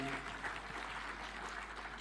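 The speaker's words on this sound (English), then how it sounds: "A better applause for Waziri Mbadi." Applause from an audience at a devolution conference, faint and distant, a diffuse patter of many hands continuing steadily for the whole stretch.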